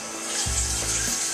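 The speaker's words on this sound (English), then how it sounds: "put some water in there" Water gushes steadily in a broad hiss as it pours into a pan of beer wort, over a low rumbling hum that swells midway.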